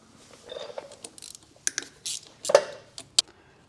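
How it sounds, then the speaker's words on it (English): The last screw comes out of a motorcycle diaphragm clutch pack on a 2022+ Beta 4-stroke, heard up close as a run of small metallic clicks, ratchet-like ticks and light taps, irregular and quiet. "So I'm taking that last screw out"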